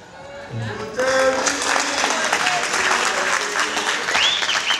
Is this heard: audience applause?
yes